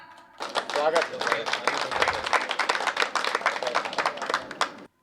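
Audience applause at a Hindi Kavi Sammelan poetry recital, steady crowd clapping that starts abruptly, holds for about four and a half seconds and then stops cleanly.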